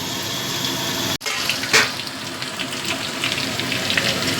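Diced potatoes and papaya frying in a pan for a vegetarian dalna, a steady close sizzle with a brief lid clatter and stirring scrape partway through, no talking.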